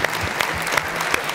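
Audience at a gala concert for a national singing contest applauds steadily, a dense wash of hand claps with a few sharper individual claps standing out.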